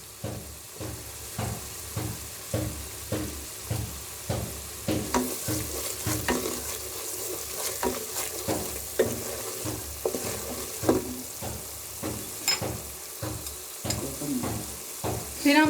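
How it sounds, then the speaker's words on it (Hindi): A spice paste sizzling as it fries in a pan while a spoon stirs it in steady repeated scrapes, close and clear, with no talking. "मसाले को हमने अच्छी तरह से भून लिया है।"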